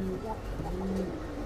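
Pigeons coo softly at a busy pigeon market, low repeated murmuring calls over a steady crowd hum, with voices talking in the background.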